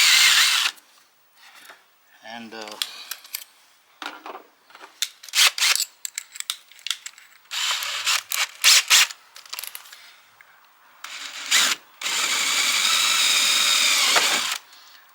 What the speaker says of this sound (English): I'm gonna drill these holes in the corner of my cuts